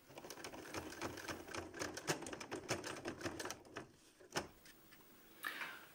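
A sewing machine stitches over a fabric flap on a simple zipperless cosmetic bag, with a close, rapid rattling needle rhythm that pauses briefly before a short final burst.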